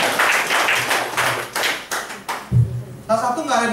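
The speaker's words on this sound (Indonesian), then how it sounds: "Tepuk tangan dong Bapak Jansen ya" A few people clap at a talk on leaving nursing for financial advising. The bursts of clapping are brief and come in a loose rhythm, then give way to voices and room noise.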